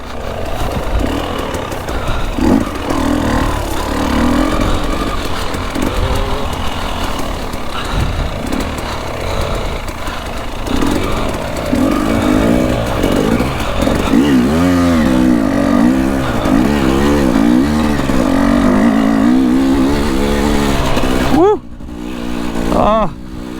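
Dirt bike engine running and revving on a ride, a continuous buzzing drone with rising and falling revs, loud and close, with a rider talking over it.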